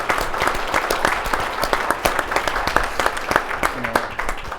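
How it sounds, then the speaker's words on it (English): A round of applause at a forum for military service members and veterans, many hands clapping steadily throughout with voices mixed in the crowd. "Let's give them a round of applause."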